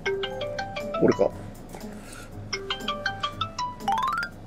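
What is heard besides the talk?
phone ringing with an incoming call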